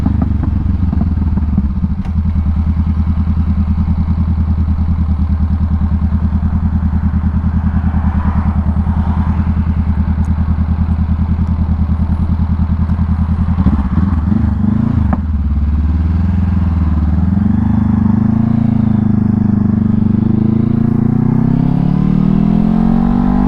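A 2020 Honda CBR500R engine hums loudly and continuously while ridden, with a steady mid-pitched drone, a brief rough patch, and then rising revs as it accelerates.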